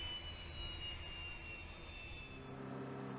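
Engines of a Lockheed C-130 transport, a four-engine aircraft, giving a steady, loud broadband roar with a high whining tone throughout, and a low droning hum entering near the end.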